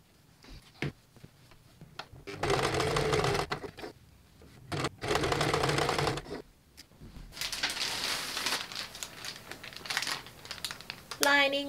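A sewing machine stitching a jacket lining runs in several short bursts of rapid mechanical whirring, separated by quiet pauses and fabric handling, with brief talking near the end.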